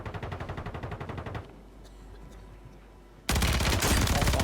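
Video game gunfire: dense rapid automatic bursts, loud and close, stop for a quiet gap of about two seconds, then a sustained heavy barrage resumes, with no clear talk.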